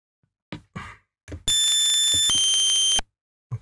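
Sync buzzer tone from a tracker instrument editor, a loud, bright synthetic buzz with a rich harmonic stack that shifts pitch partway through and holds for about a second and a half, set between short bursts of other sounds.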